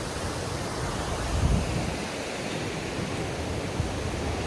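A small waterfall at Viripara near Munnar, Kerala, pouring as a steady broadband rush of water that stays loud and even throughout, with no talk over it.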